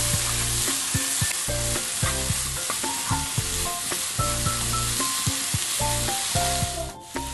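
Vegetable spring roll filling stir-frying in a pan, with a loud steady sizzle broken by repeated sharp scraping and clattering strokes of a spoon against the pan, no voices.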